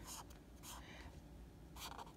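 Pen strokes on paper while triangles are drawn, three short scratchy bursts at the start, middle and end, faint and close with no talk.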